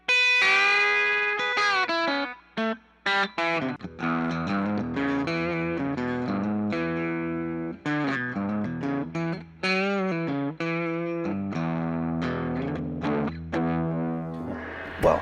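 A Gretsch 5420T electric guitar played through a Fender Blues Junior amp rings out in a continuous melodic passage of sustained notes and quick runs, loud and close with no talking.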